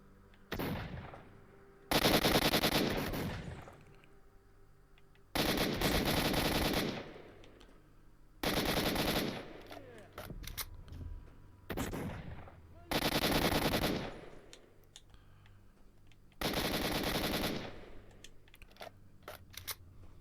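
AK rifle fire in the PC game S.T.A.L.K.E.R.: Shadow of Chernobyl Enhanced Edition: about six loud, sharp automatic bursts, each lasting roughly a second, spaced a few seconds apart over a quieter ambient background.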